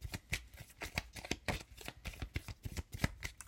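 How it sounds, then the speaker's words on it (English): Tarot cards are shuffled by hand in a rapid run of crisp, papery riffles and slaps, close to the microphone with a busy, uneven rhythm throughout. "I'm just shuffling these cards."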